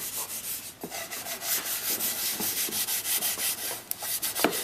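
A rag rubbing wood stain onto the bottom of a small wooden drawer box, steady rhythmic back-and-forth scrubbing strokes, close and fairly loud with no talking.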